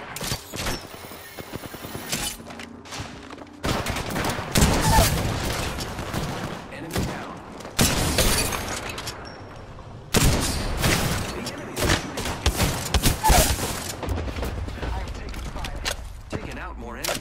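Rapid automatic gunfire and explosions in the battle royale video game Apex Legends, dense and continuous throughout, with voice callouts mixed in.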